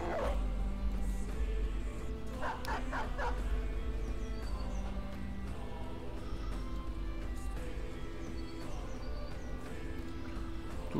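In the video game Battle Brothers, a dog attacks with repeated barks and yips, mixed with whimpers, over steady game music and effects.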